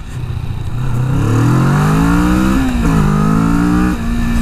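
A Kawasaki Vulcan S motorcycle engine and exhaust while riding, a loud steady drone that climbs in pitch through the gears with a brief dip at a shift, heard up close with no talking.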